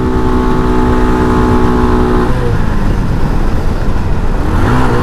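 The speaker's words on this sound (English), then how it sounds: "I feel like I'm revving too much" An RPS Condor 150 motorcycle engine revs loudly and steadily at highway speed, a continuous droning note with a pitch drop around the midpoint, then climbing again near the end, heard up close with no talking.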